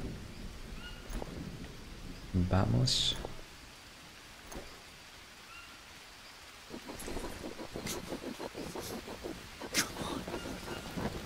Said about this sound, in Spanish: Y ahora se pone a llover.